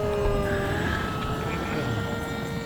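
A black EPP foam delta-wing RC plane makes a low flyby at dusk, its electric motor and propeller giving a steady, fairly loud whine that holds throughout.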